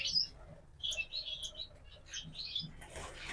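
Golden finch chirping in short bright bursts, several quick calls spread across a few seconds, fairly close but not loud, with a soft background rustle.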